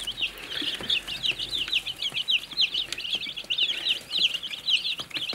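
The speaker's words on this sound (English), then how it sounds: "These are day old chicks underneath an infrared lamp to keep them warm." Day-old chicks under an infrared brooder lamp cheep constantly in a dense chorus of high, rapid peeps, close and continuous throughout, with faint rustling beneath.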